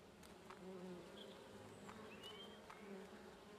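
Bees buzz faintly in a video game, with a thin droning hum and a few soft chirps and ticks over a low ambient background.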